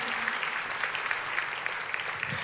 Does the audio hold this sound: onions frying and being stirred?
no